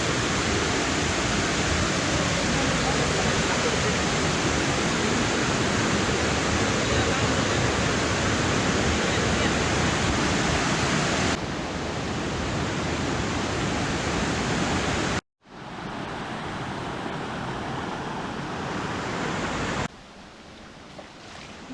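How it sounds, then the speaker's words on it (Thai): Thai mountain waterfall in the Phu Phan range, Kalasin, roaring just ahead as a dense, constant rush of falling water that fills the scene, loud and steady throughout, with a brief break and a slightly quieter stretch near the end. "นี่นะคะ น้ำตกเข้ามาอยู่ข้างหน้าเรานี่เอง"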